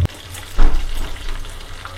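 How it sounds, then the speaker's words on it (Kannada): Masala chicken kebabs fry in oil over a medium flame, giving a steady low crackle with a brief louder burst of sizzling partway through, no voices. "ನೋಡಿ ಮೀಡಿಯಮ್ ಫ್ಲೇಮಲ್ಲೇ ಬೇಯಿಸ್ತಾ ಇದ್ದೀನಿ"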